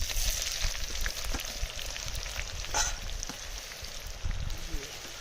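Gravy frying in a kadhai over an open fire at night, a steady crackling sizzle with bits of stirring and faint voices in the background.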